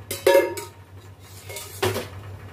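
A spoon clinks and scrapes against a bowl while bhel ingredients are mixed with raw oil, giving a few sharp metallic knocks separated by quieter stirring.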